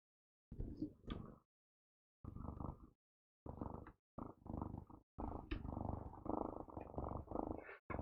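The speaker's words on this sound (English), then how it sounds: "Oh, you can hear her purr a little bit." A cat purring with the microphone held against her neck, heard as several low rumbling bursts separated by short silences, then a longer continuous stretch, very close and fairly loud.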